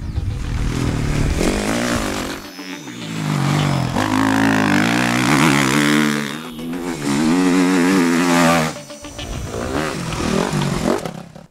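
A 2013 Suzuki RM-Z motocross bike engine revs hard in several loud, close bursts, each swelling and dropping back, with a brief dip between throttle blips and no talk.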